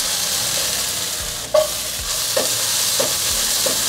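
King oyster mushrooms and red bell pepper are stir-fried in a wok. A steady, close sizzle is broken by several spatula knocks and scrapes at a loose, irregular rhythm.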